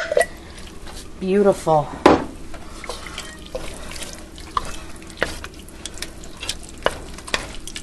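Canned pork is poured into a pan with all its liquid for pork green chili, making a loud splashing pour and clatter early on that gives way to steady sizzling and bubbling, with a brief spoken remark.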